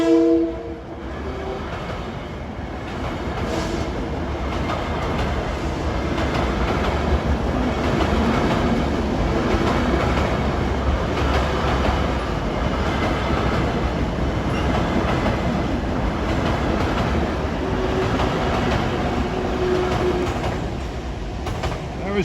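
A Long Island Rail Road commuter train from Ronkonkoma to New York rolls through the Willis Avenue grade crossing by Nassau Tower interlocking in Mineola. A loud, steady rumble of the passing cars lasts throughout, with a horn sounding near the start.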